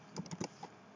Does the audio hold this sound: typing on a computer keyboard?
yes